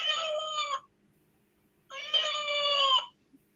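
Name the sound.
cat meowing, played sound clip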